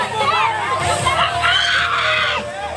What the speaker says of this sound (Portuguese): Gritos das vítimas.